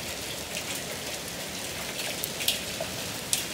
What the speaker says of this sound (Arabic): الدنيا بتنزل برد